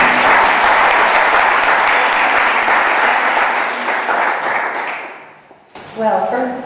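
An audience at a public debate on inclusion of African youth claps steadily, loud and dense at first, then thins and fades out near the end before a speaker's voice begins.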